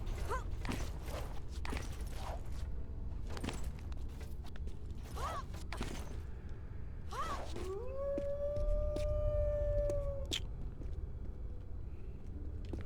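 A wolf howls in the video game Tomb Raider Anniversary, a rising then sustained tonal cry standing out midway over a steady low ambient rumble with scattered footsteps and clicks.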